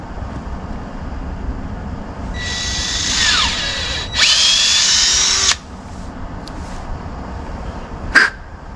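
A power drill bores a tap hole into a maple tree outdoors, whining loudly in two close bursts, its pitch shifting as the bit is slowly pulled back out, with a crow cawing nearby.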